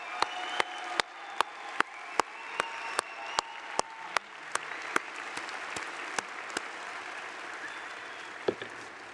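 Audience at the 2014 SACNAS conference applauding, a crowd's clapping with a series of sharp loud individual claps standing out over a softer wash of hands, gradually thinning toward the end.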